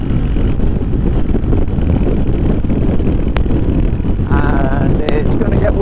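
Loud, continuous wind roar on the microphone while riding a Royal Enfield Hunter 350 motorcycle out onto a dual carriageway, with engine drone underneath and a brief tonal whine near the end.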